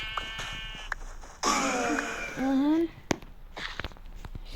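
A sheep bleats twice in wavering cries, near and fairly loud, with a few footsteps and light shuffling noises around them.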